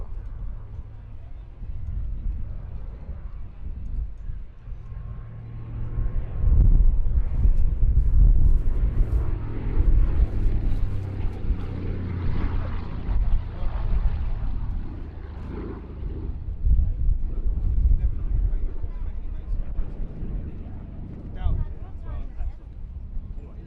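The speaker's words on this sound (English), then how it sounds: "it's one of the lowest time DC-3s or DC-3 variants still flying" A Douglas C-41A, a low-time DC-3 variant, drones through at the Duxford summer airshow, its engine rumble swelling loud in the middle and easing off, heard beneath continuous commentary.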